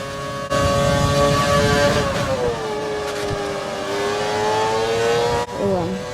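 A 2010 McLaren race car in a racing video game screams at high revs, its engine pitch dipping and climbing smoothly with brief cuts at gear shifts, loud and continuous with no talking.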